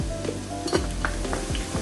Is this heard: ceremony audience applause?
no